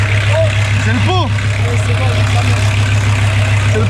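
A VW Transporter T4 2.4 diesel idles with a cracked, unwelded exhaust, a loud steady low rumble close by, while people talk over it.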